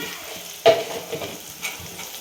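Chopped tomatoes sauté in hot oil in a pan, a soft steady sizzle with a sharp clink of a stirring spoon and a few light scrapes, close and brief.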